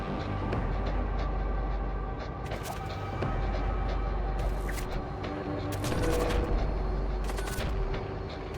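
Rapid bursts of gunfire in a sci-fi shooter game, several dense volleys sounding over a constant droning engine hum, loud and close with no talking.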